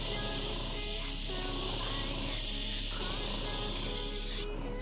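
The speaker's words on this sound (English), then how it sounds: "See how precise you can be when you deal with your airbrush pressure?" An airbrush sprays paint with a continuous, even hiss under steady pressure, close and fairly loud, with faint talk underneath.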